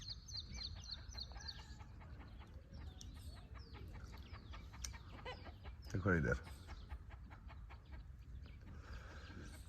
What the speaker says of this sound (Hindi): इधर मुर्गी बोल रही ना